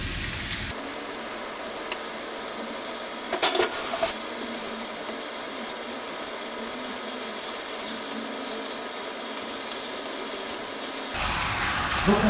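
Meat added to a hot pan in a cooking workshop, a continuous loud sizzle and hiss that stays steady for several seconds with a few brief stirring clatters, then cuts off at the end.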